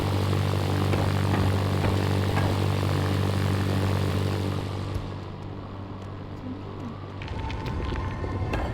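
Plane flying in the Wobbly Life video game: a loud, steady propeller-engine drone with a strong hum that drops back partway through, then picks up again with some clatter near the end.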